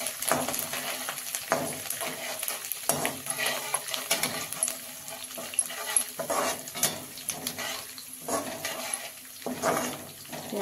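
Curry leaves and coriander sautéing in a sesame tempering for crispy poha chivda, with repeated bursts of stirring and crackling sizzle in an irregular rhythm, close by with quieter gaps between.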